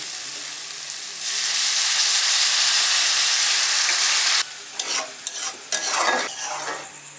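Cumin and coriander powder masala stirred in a pan, a quiet start that jumps into a loud steady sizzle, then broken scraping and stirring bursts with hissing, close up and without speech.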